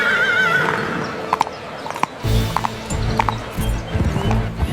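A horse whinnies loudly and close up, then hooves clip-clop in an uneven rhythm as a mounted party sets off east with guards.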